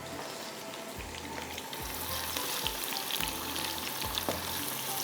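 Onions sizzle and fry steadily in a hot pan while cooking masoor pulao, a constant close hiss with occasional stirring scrapes and louder crackles throughout.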